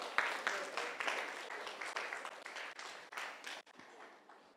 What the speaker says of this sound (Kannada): ಜೋರಾಗಿ ಚಪ್ಪಾಳೆ ತಟ್ಟಿ.